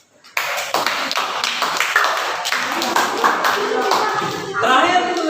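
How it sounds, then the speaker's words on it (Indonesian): Students in an Indonesian classroom break into a round of applause, lively close clapping starting abruptly and continuing steadily, with voices mixed in underneath. "Beri tepuk tangan"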